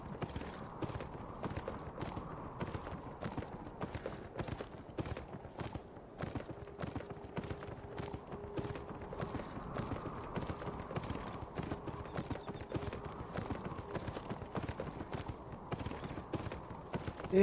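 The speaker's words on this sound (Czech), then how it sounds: "Jedu na koni," A horse being ridden in the video game Beyond: Two Souls clip-clops steadily with an even, rhythmic hoof pattern at close range, continuing without talk throughout.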